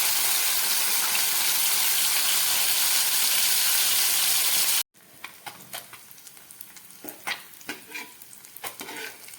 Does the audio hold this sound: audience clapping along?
no